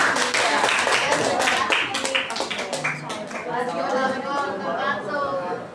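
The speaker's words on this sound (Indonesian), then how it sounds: "Tepuk tangan dong untuk kelompok mengamalkan selanjutnya." Classroom students clapping for a presenting group, a dense patter of hands mixed with lively chatter and voices talking throughout.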